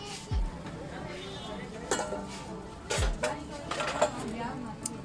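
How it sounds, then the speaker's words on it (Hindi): Steel pots, pans, sauce pans and lidded cooking pots being handled in a Karachi one-dollar shop, with a few clear metallic clanks and clinks over a bustling background while people talk. "ये सारे स्टील के बर्तन हैं 160 के।"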